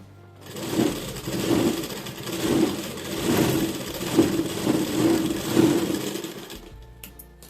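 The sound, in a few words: sewing machine stitching a blouse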